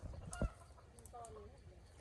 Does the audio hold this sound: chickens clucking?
yes